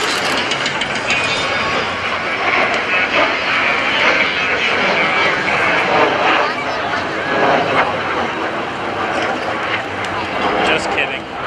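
An A-4 Skyhawk jet makes a pass at the 2015 NAS Oceana airshow, a loud sustained engine roar that swells and holds, with an announcer talking over it.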